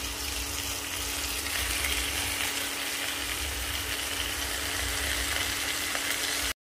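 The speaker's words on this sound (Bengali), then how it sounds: "এই ধুয়ে রাখা মাংসর পিসগুলো এক এক করে আমি এর ভেতর দিয়ে দিচ্ছি।" Washed chicken pieces frying in a pan for a stew, a loud, dense, steady sizzle with faint stirring scrapes running throughout, then cutting off abruptly at the end.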